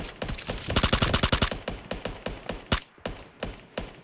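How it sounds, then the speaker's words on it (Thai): Gunfire in PUBG Mobile, a rapid automatic burst of loud close shots followed by slower single shots and short bursts, with no talking over it. "เฮ้ยฝั่งนู้นยิงฝั่งนู้นยิงเพื่อน"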